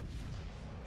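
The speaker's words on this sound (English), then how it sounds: "Shots out." Naval guns boom in World of Warships: Legends as a ship fires a salvo, a dense low rumble filling the short moment at steady loudness.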